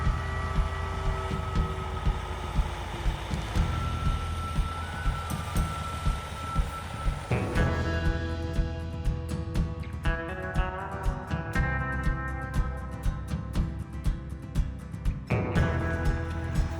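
A massive truck delivers a shipping container, its heavy engine rumbling steadily throughout with a repeating tonal reversing beep and mechanical clanks, loud and close.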